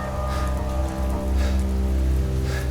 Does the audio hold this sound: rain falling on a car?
yes